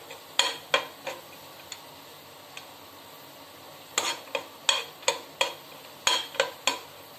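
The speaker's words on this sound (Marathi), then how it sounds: "त्यात थोडे ड्रायफ्रूट परतून घेऊया" Dry fruits roasting in a pan, a spatula tapping and scraping against the metal in sharp, close clinks, sparse at first and then in a quick cluster, with faint sizzle between and no talking.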